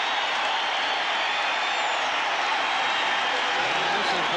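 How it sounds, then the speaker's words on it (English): Roaring Rockies home crowd at a 1995 playoff baseball game in Colorado, cheering and applauding continuously after the tying run scores, a dense, loud wash of noise filling the whole stretch. "This is the first time that the presence of this Rockies crowd has really been felt"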